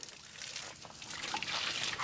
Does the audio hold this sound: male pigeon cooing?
no